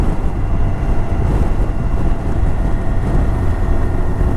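Steady, loud wind roar buffets the microphone while riding a 1984 Honda CB700 SC Nighthawk S motorcycle with no fairing, a continuous rushing blast with engine drone underneath.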